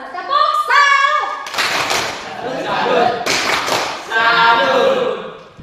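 A class of children in a Catholic religious education lesson joins a call-and-response clapping routine, with bursts of group clapping between chanted voices; loud, close, and mixed with children speaking.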